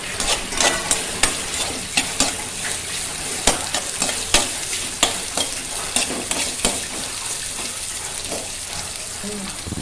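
Green gram stir-fry sizzles steadily over a low flame while a spoon scrapes and taps against the pan in a regular stirring rhythm, close and fairly loud, with no talking.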